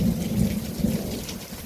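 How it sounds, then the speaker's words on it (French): Heavy rain pours steadily during a strong spring thunderstorm in southern France, with a continuous close roar of downpour and deep rumbling thunder underneath, no voices. "j'ai pas vu de telles pluies"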